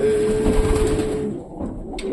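A single pigeon coos nearby, soft low calls over a faint steady background hum, with no talking.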